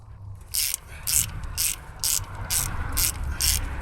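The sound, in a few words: ratchet undoing bolts on a Triumph gearstick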